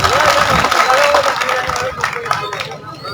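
Audience applause at a political rally welcoming a speaker, dense clapping and crowd hubbub filling the whole stretch, close and steady, with a voice speaking over it.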